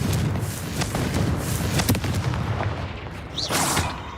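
Confringo blasting spell explosions in Hogwarts Legacy, a run of loud, close bursts and cracking impacts repeating irregularly over a busy rumbling background, with a sharp whooshing flare near the end.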